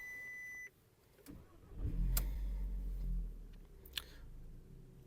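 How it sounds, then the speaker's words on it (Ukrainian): A Volkswagen car engine cranks and catches after a short beep, a brief low rumble that settles into a quiet idle, with a click and faint interior sounds around it. "Давайте запустимо двигун."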